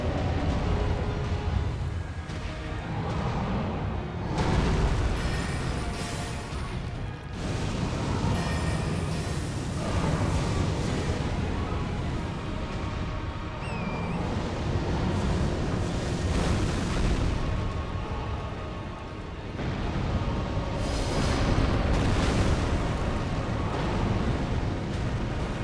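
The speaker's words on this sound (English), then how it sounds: "tons of exploding rocks" Rocks exploding during an Elden Ring boss fight: dense repeated booming blasts and rumbling crashes, loud and continuous, with heavier bursts recurring throughout.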